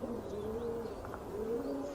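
Domestic pigeons cooing near a pigeon loft, soft low rolling coos repeating in a steady rhythm, fairly close and alone without voices.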